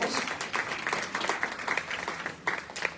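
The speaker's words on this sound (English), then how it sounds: "Let's give them all a round of applause." Audience at a Black History Month celebration applauding the guests, a steady burst of many hands clapping close and fairly loud for a few seconds.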